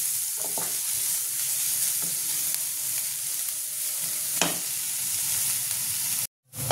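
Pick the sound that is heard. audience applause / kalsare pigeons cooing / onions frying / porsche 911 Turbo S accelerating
onions frying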